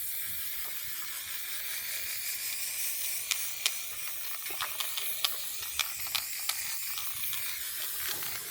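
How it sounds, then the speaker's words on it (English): White spray paint being applied to a 3D-printed part, heard as a steady, fairly quiet aerosol hiss broken by a series of short, sharp nozzle clicks and spurts. "What we're going to do now is just do a little test of spray paint and see how we're going."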